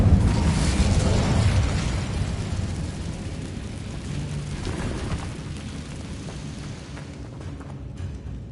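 Incendio fire spell cast in a video game, a loud fiery burst that rumbles and crackles, then fades into a long hissing roar, with no voices.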